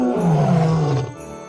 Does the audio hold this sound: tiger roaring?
yes